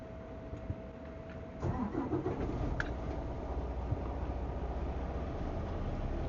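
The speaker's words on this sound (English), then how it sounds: "Start this truck because it's getting warm in here." A truck engine cranks and fires up, then settles into a steady low rumbling idle, heard close from inside the cab.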